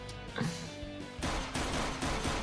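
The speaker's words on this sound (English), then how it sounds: "Who shot? Who fired?" Gunfire in a Minecraft game, with a couple of sharp broadband shot bursts and crackling noise layered over a dense, busy mix.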